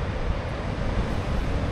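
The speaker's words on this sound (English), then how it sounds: "Those waves, Atlantic rollers, without a doubt." Atlantic ocean waves roll into a bay below a cliff top, a steady broadband roar of surf mixed with wind buffeting the microphone, continuous and fairly loud with no voices.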